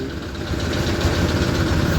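A Massey tractor engine idles steadily at low speed while reversing, a continuous close rumble with no talk.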